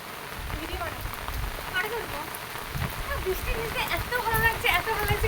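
Steady rain falls on a rooftop, a dense even patter with closer drips pattering over it, moderately loud throughout with no voices.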